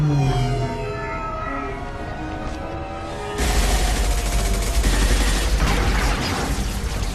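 Gunfire in Mass Effect 2 bursts in as a dense, loud crackling barrage partway through, following a stretch of tonal ambient hum and mechanical sounds.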